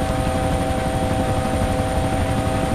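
A helicopter in the ArmA 2 military video game drones loud and close, its rotor and engine making a constant dense roar with steady tonal whine throughout, no speech over it.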